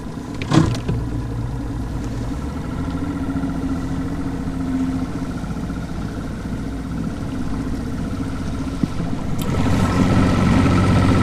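A fishing boat's engine idles on Percy Priest Lake with a low, steady mid-range rumble, nearby and continuous, swelling slightly louder near the end, after a brief knock near the start; no one speaks.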